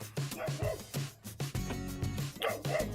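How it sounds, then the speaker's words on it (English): Several dogs on the fenced grounds of a home near Lake Lauderdale in Cambridge, New York bark and yip in quick, excited bursts close by, with a few whimpers between the barks. "And there are the dogs, saying hi."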